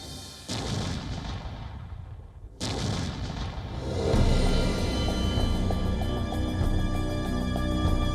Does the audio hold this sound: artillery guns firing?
yes